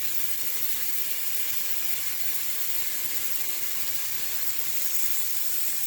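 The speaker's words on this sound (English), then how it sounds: "I love the frying sound of bacon." A continuous bright sizzle and hiss, steady and close, of bacon frying in a hot pan, with no voices.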